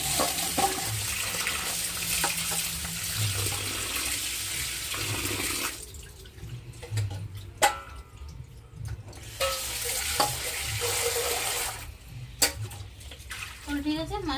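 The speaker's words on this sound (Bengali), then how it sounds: "মাছগুলো ভালো করে পরিষ্কার করে ধুয়ে নিই" Tap water runs into a sink while fish are rinsed and cleaned by hand. The flow splashes steadily and nearby, with brief breaks and shifts as the fish are moved under the stream, and voices talk at times over it.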